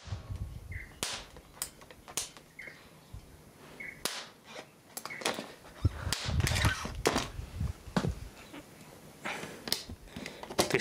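Capacitor bank discharging with a series of sharp, loud cracking bangs scattered irregularly among quieter crackles and fizzes, close by, with no voices.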